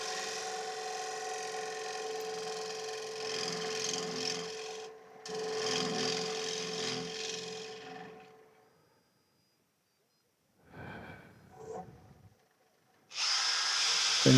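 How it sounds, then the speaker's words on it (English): A scraper works across a pyrographed wooden plate as it spins on the lathe, producing a steady, rough scraping hum that breaks off and returns several times before trailing away into near silence. "back to the scraper, just to get it as smooth as"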